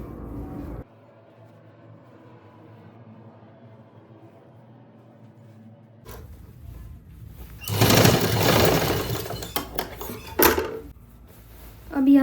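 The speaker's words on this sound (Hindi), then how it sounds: "अब हम यहाँ पे स्टिच कर देंगे।" A sewing machine stitches a seam on a Pakistani straight salwar; after several seconds of quiet room hum, the machine runs loudly for about three seconds, then ends with a few short clattering bursts.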